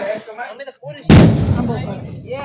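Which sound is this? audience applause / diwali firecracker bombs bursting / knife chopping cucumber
diwali firecracker bombs bursting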